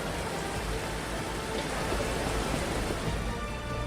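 Heavy monsoon rain pours down steadily in Udhampur, Jammu and Kashmir, a dense, continuous hiss of drops hitting surfaces with no voices over it.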